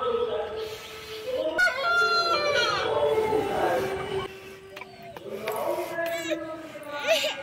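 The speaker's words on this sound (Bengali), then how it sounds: "ওই যে আমাদের মুরগি আর মোরগ সব চলছে।" A village rooster crows loudly and nearby chickens cluck among free-roaming farmyard poultry, with repeated drawn-out crows and scattered clucks over a person talking.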